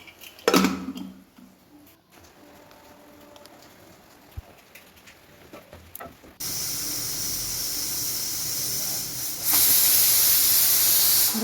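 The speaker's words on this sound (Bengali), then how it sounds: "এটাকে প্রেসার কুকারে সিটি তুলে নেব" Pressure cooker boiling soaked lentils with tarka spices and salt, a loud steady steam hiss starting partway through and growing stronger near the end after quieter kitchen clatter.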